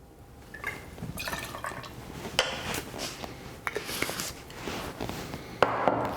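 Luxardo maraschino liqueur poured into a cocktail mix with lemon juice, a soft trickling splash and drips against faint clinks of barware, steady and close, with no voices.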